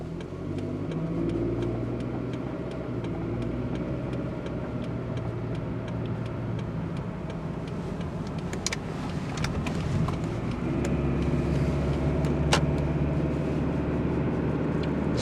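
Steady interior drone of a car running on a freshly remanufactured transmission, a continuous low engine and road rumble with faint ticks and clicks near the end, no talking.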